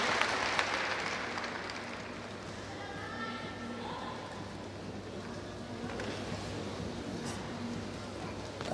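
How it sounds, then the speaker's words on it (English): Arena crowd at the 2018 Trampoline World Championships in St. Petersburg cheering for gymnast Yana Pavlova, a broad sustained roar and applause that is loudest at the start and then settles, heard at a distance. "And the cheer goes up for Yana Pavlova from the Russian Federation"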